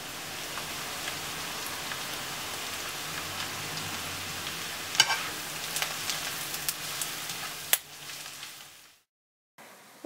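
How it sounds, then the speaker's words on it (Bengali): Onions frying in butter in a pot for Bengali plain polao, a continuous crackling sizzle like light rain with a few sharper pops, steady and close before cutting out into brief silence near the end. "এখন আমি পেঁয়াজটা দিব, পেঁয়াজটাকে ব্রাউন করে ভাজবো।"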